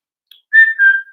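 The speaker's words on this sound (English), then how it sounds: "I like to whistle." A person whistles a short tune, a few clear sustained notes that rise and slide, loud and close against silence.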